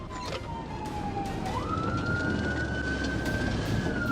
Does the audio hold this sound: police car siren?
yes